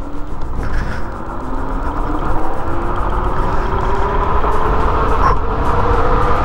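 A Nanrobot LS7+ electric scooter speeding up, a rising motor whine climbing steadily in pitch under heavy, constant wind rush for several seconds.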